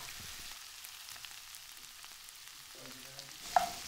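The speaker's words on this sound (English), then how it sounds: "I'm cooking down the chorizo and the smell coming off this is delicious and it's releasing all its oil" Chorizo and potatoes fry gently in the chorizo's released oil with a soft, steady hiss of sizzling and a faint clink near the end.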